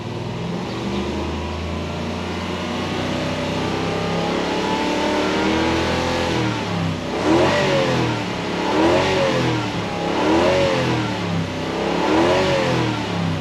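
A Toyota Hilux 2013 pickup truck with a 3UZ engine idling steadily, then revved up several times in a row, each rise and fall close and loud.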